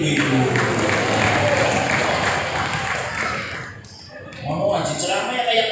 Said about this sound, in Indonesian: tepuk tangan untuk ibu-ibu.